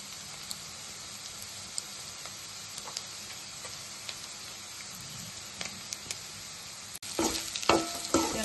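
Steady sizzling of chicken frying in a hot pan with faint clicks, then louder scraping and stirring near the end as ground masala is mixed in; no one speaks.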